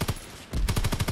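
An LMG fires in Call of Duty WW2: a short burst, a brief pause, then a second rapid burst of sharp, punchy shots in a fast even rhythm, loud and close.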